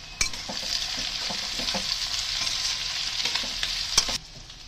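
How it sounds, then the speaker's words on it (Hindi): Cabbage, carrots and onion stir-fry over a high flame, with a steady close sizzle and occasional scraping stirs against the pan, no voices. "अब मैं डाल रही हूँ कैबेज। ये सारे वेजिटेबल्स मैं हाई फ्लेम पे ही कुक कर रही"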